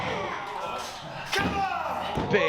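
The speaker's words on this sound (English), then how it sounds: "Big scoop slam." A wrestler crashes onto the ring mat from a big scoop slam during a wrestling academy championship match, a heavy thud over an excited commentator's voice and crowd noise, with a second impact near the end.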